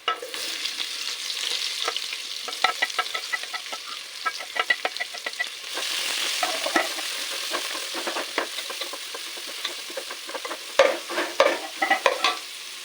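Sliced onions sizzling in hot oil with curry leaves in a pan, while preparing spiced bitter gourd: steady close frying hiss broken by repeated scraping, stirring clatters and spoon knocks against the pan.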